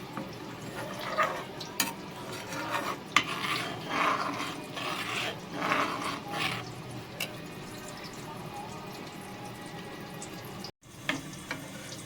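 Metal spoon scraping thickened, caramelising milk from the sides of a pot of simmering rice kheer, with repeated close scratchy strokes and clinks in an irregular rhythm, faint bubbling between them.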